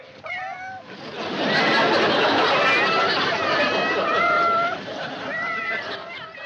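Several cats meow and chatter together over a pile of fish in a sitcom scene, their calls rising and overlapping loudly for most of the clip, with a steady background wash beneath them.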